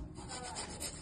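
Paneer paratha dough being rolled out with a rolling pin, a steady soft rubbing and scraping close by, continuous and without talk.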